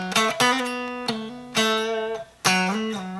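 A short melodic Mixolydian lick played on a plucked string instrument, with a handful of clear, sustained notes and pull-offs picked one after another, close and alone.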